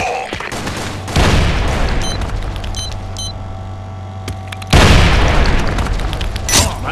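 Grenade explosion in a shooter game, a loud close boom followed by a rumbling tail, with a second heavy blast later amid crackling gunfire-like bursts and faint electronic beeps.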